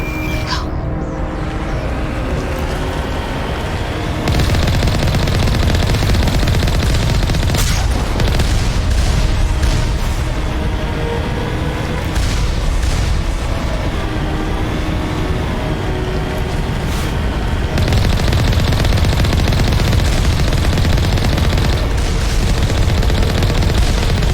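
Automated turrets on Asteroid X57 in Mass Effect firing steadily amid loud booms and gunfire bursts, a dense, continuous barrage with no pauses and no talking.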